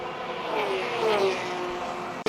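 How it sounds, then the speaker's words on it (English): A race car's engine in Le Mans Ultimate spins back up after a stall, a steady mechanical drone with rising pitch under constant noise, ending in a sharp click. "So the car stalled, had to restart it."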